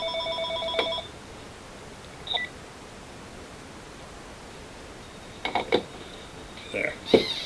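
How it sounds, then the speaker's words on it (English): A telephone rings in short electronic bursts at the start, then again near the end, over steady background hiss; no one speaks. "excuse me, phone's ringing."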